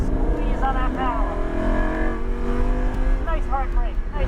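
A 2014 Lamborghini Huracan accelerates hard on a track course, its engine note rising in pitch through quick upshifts and falling briefly between them, loud and close throughout, with someone talking over it.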